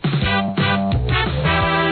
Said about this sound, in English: You hear the trumpets, you hear the real drums.